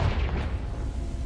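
A Confringo fire spell from Hogwarts Legacy bursts in a steady, loud, broadband rumble with heavy low end that holds for the whole moment without any clear decay.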